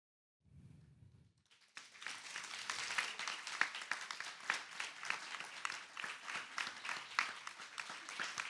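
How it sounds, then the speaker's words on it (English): An audience at a forum applauds advocates of the East Lyme Fair Rent Commission. The sustained, dense clapping swells after a quiet start and continues steadily throughout. "I'd like to offer them a round of applause for their commitment to their community"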